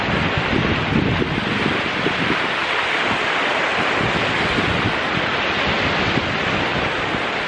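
Sea waves roll onto Station 1 beach in Boracay, a steady, loud wash of surf with wind buffeting the microphone, continuous throughout with no voices.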